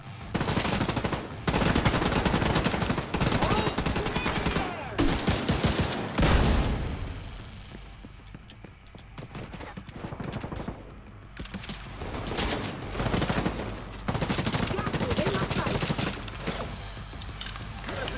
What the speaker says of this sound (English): I don't know what I'm shooting at right now.